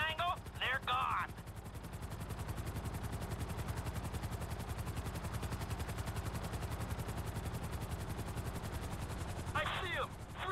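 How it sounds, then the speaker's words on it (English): Helicopter rotors thump in a rapid, continuous pulse throughout a GTA 5 battle scene, with loud bursts of gunfire near the start and the end and shouted voices over the noise. "I see them! Three choppers!"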